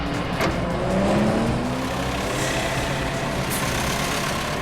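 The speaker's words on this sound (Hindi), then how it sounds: "सिद्धांत, स्लो चलाओ गाड़ी" A car drives along with a steady, loud engine drone and rolling road noise, continuous and close throughout, with no talking.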